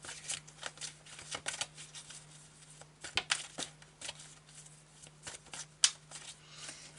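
Tarot cards being shuffled by hand during a reading, a quiet close run of papery riffles and soft slaps with irregular bursts, a few sharper snaps, and a steady low hum beneath.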